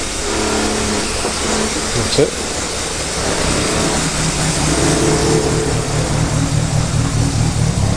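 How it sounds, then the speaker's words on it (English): A classic car engine, not run for a while and on choke, revs steadily and loudly close by, holding a rough low drone throughout while a voice speaks briefly over it. "Such a sweet sounding engine."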